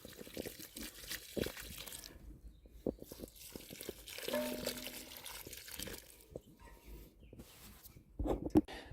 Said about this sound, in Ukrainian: приливаю водою